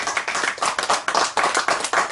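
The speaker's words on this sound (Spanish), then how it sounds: "Un aplauso para ellos, por favor." A small audience at a book presentation claps warmly for the guests, a brief, dense burst of close, lively hand clapping throughout.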